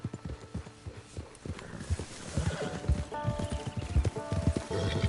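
Hooves clip-clop steadily as a horse is ridden in Red Dead Redemption 2, with a horse whinnying, over a busy game soundscape that grows louder partway through.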